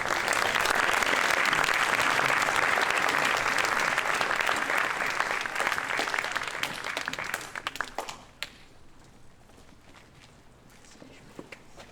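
Applause at an Eagle Scout court of honor, a steady, full round of clapping from the audience that holds for several seconds, then thins out and dies away to a few scattered claps.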